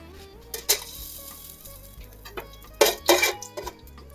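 Whole cloves and cinnamon bark sizzle in hot oil in a pan for chicken biryani, a soft steady crackle broken by a few louder metallic clatters and stirring bursts.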